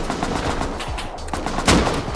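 Rapid gunfire in the game Rust, dense bursts of shots at close range, with a louder blast near the end.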